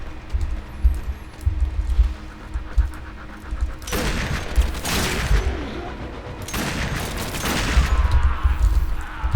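Lex pistol fire in Warframe: two dense bursts of heavy, crackling gunfire ringing out over a low droning game backdrop, each lasting about a second.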